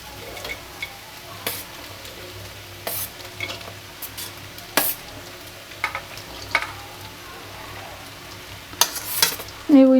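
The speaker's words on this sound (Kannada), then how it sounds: "ನೋಡಿ, ಈ ರೀತಿ ಚೆನ್ನಾಗಿ ಹುರ್ಕೊಳ್ಬೇಕು ಮೊಟ್ಟೆನ. ಮೊಟ್ಟೆದ ಹಸಿ ಸ್ಮೆಲ್ ಹೋಗೋ ತನಕ ಹುರಿಬೇಕು. ಇವಾಗ ರೈಸ್ ಹಾಕೋಣ." Egg and rice being stir-fried together in a pan, a soft steady sizzle with scattered scraping and stirring clicks, close and without any voices.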